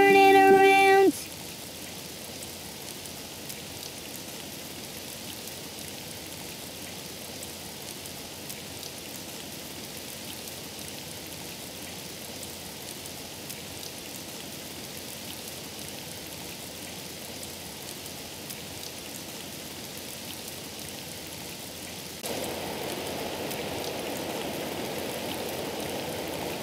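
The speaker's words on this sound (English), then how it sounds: "it's raining outside" Steady, even rainfall hisses throughout, a soft continuous patter that grows slightly louder near the end, after a brief tone at the start.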